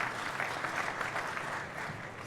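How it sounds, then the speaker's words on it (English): Audience applause at a startup pitch event for real estate tech, a soft, even patter of many hands clapping at moderate distance, steady and fading slightly at the end. "A big round of applause to BUILTWORLD."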